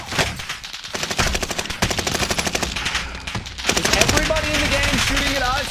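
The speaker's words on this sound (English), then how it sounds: "Is everybody in the game shooting at us?" Rapid automatic gunfire from a multiplayer shooter video game, dense bursts of shots rattling continuously throughout, with someone talking over the shooting.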